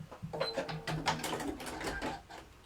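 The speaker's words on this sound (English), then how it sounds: "So I'm just going to stitch those down now." Sewing machine stitching the 1/4-inch seams of a chain link quilt block, in short rapid mechanical bursts of needle chatter, close and moderately loud, over roughly two seconds.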